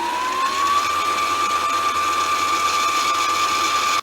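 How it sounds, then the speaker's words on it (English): A home sewing machine winds its bobbin with a steady, loud, high whirring motor hum that holds constant for several seconds and then stops abruptly. "In this case, we want to wind the bobbin. So once it is over, you're going to press your presser foot and let it wind."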